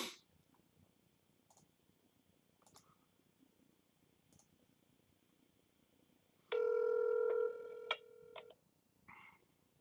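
A telephone call placed to a sales lead rings out with a short tone sequence and a brief beep, then goes to voicemail, heard faint and close against low room hiss with a few soft clicks.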